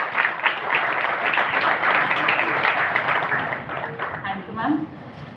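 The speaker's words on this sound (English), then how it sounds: "please give him a big round of applause" Audience applause fills a university convocation hall, a dense steady clatter of many hands that carries on throughout, thinning slightly near the end, with a brief voice at the close.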